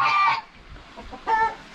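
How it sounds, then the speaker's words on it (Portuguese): Rooster on a small farm clucking in two short bursts, close and fairly loud, with a quiet gap of low farmyard noise between them. "É um galo cabeludo?"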